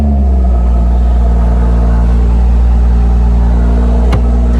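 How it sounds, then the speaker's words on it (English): A BMW M140i Shadow Edition engine running loud and close after starting, a steady low rumble with a constant idle hum throughout, no voices. "Peters has just started the engine for us. Really lovely sound"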